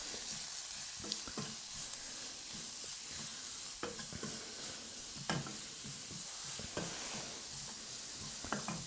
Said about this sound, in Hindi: यहाँ पे हमें धीमी धीमी आंच पे इसको अच्छे से भूनना है